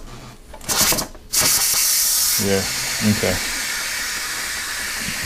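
Steam hisses steadily from the release valve of a Cuisinart pressure cooker holding chipotle pulled pork, a loud continuous spray that starts after a couple of short bursts, with a person briefly speaking over it.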